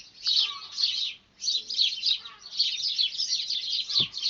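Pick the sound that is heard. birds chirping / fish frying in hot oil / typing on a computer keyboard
birds chirping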